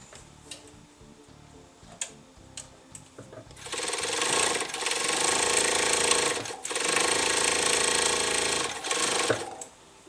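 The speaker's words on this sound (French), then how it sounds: "Toujours en découpant toute la partie de la couture overlock." An overlock sewing machine cuts and stitches along a fabric seam, starting after a few soft ticks and clicks and then running in loud, close, steady bursts with one brief pause.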